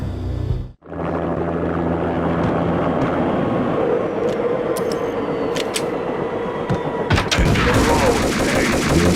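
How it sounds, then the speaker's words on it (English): Armed helicopter from the video game Max Payne Remastered, with a loud continuous rotor and engine roar and sharp bursts of gunfire cracking over it, growing denser toward the end. "An armed helicopter just landed on the manor grounds."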